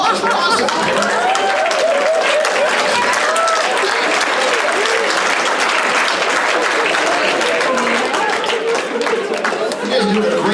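A live crowd at a hypnosis show claps and cheers continuously for about ten seconds. The applause is loud and dense, with scattered voices and chatter mixed in.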